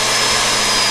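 A VEVOR magnetic drill press motor spins up to speed, giving a steady, loud, broadband whirring hum throughout the brief moment with no talk.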